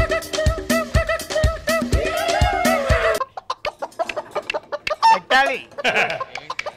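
A hen clucks close by in a quick rhythmic run of clucks, then gives looser, scattered clucks and squawks.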